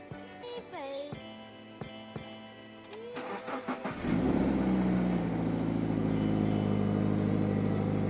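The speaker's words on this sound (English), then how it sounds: "Started good. Look at this. Just hear this engine purr." A Toyota 86 engine cranks and fires up after an oil change: a few clicks and a short starter whir, then it catches with a rev and settles into a steady, loud idle, heard close by.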